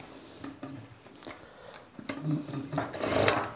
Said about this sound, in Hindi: सबसे पहले हम पट्टी पे सिलाई लगाएंगे।